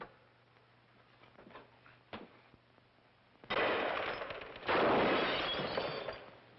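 Gunfire from a 1948 feature film, a few sharp cracks early on followed by a loud sustained burst of shots and blasts, with no talk over it.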